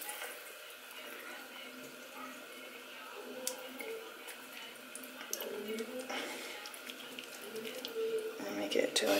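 Water runs from a tap in a steady hiss, with splashing and dripping as something is rinsed under it nearby.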